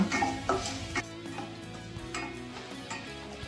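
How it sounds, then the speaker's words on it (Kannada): Peanuts and cashews fry in hot oil in a pan while a spoon stirs, giving soft sizzling under irregular scraping and clinking of utensil against metal. "ಇದಕ್ಕೆ ಒಂದು 10 ರಿಂದ 15 ಗೋಡಂಬಿ ಹಾಕೊತಾ ಇದ್ದೀನಿ. ಇದನ್ನು ಫ್ರೈ ಮಾಡ್ಕೊಂಡ್ಬಿಡೋಣ"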